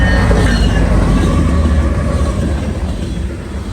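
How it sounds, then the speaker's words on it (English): A BNSF manifest freight train with an ACe leading and a GEVO trailing rolls past close by, a loud continuous rumble of wheels and rail noise with faint squealing, fading slightly at the end. "A BNSF manifest with Ace leading and GEVO trailing came in and blocked our view of the far track."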